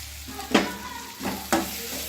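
Coriander powder fries in a pan for chayote gojju, a soft sizzle under three distinct stirring scrapes spaced roughly half a second apart.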